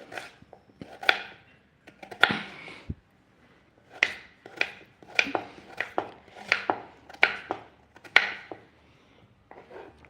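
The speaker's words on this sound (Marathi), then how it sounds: "आता हे बारीक चिरून घेते आलू असे मस्त बारीक चिरून घेते" Knife chopping peeled potatoes finely on a board in a home kitchen, with bursts of quick, close, crisp cuts separated by short pauses.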